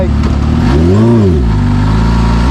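A Kawasaki Ninja H2 motorcycle engine roars loud and close, its pitch sweeping up and falling back as it revs through a gear shift, then climbing again.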